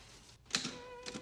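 A typewriter clacks in a film scene: a few sharp, separate key strikes with short pauses between them, fairly close and moderately loud, with no talk.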